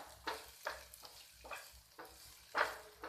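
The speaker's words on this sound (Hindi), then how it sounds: "मैं इसे थोड़ा सा भून लेती हूँ।" Onion being stirred in a frying pan for pasta pizza, a soft sizzle under repeated scraping strokes about every half second, close and steady with no talking.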